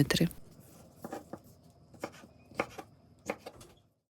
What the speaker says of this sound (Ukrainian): Огірки нарізаю довгою соломкою, тоді цю соломку нарізаю по 3 см.